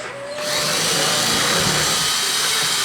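A handheld power drill, held at an angle, whirs up and runs steadily and loudly up close as it drives a screw hole into wood while a swaying zombie decoration is built.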